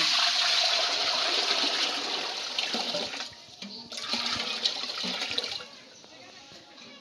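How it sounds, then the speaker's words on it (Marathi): Water gushes and splashes steadily into a cooking pot for mutton biryani, loud and close, then thins to a trickle before stopping. "आता त्याच्यात असं भरपूर पाणी ओतून घेणार आहे"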